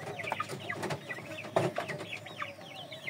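Several chickens cluck and make short calls close by in a quiet farmyard, a few overlapping bursts over soft background noise.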